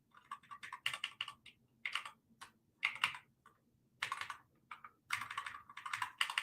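Typing on a computer keyboard: close, quiet bursts of rapid keystrokes broken by short pauses, with no voices.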